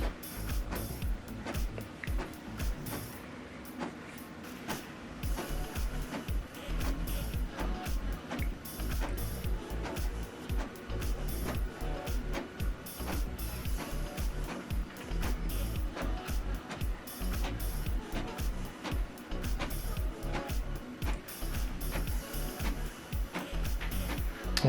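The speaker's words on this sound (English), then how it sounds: "we printed only one page" An HP printer prints a single document page, giving a continuous mechanical whirring and rapid clicking feed rhythm that runs steadily throughout at moderate volume.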